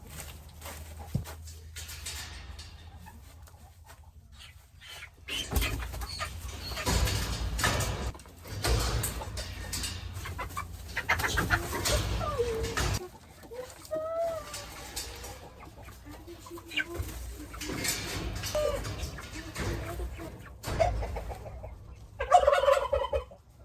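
Chickens and turkeys cluck, squawk and gobble in agitated bursts as they are caught and grabbed by hand, with shuffling and scuffling between calls and a loud flurry near the end.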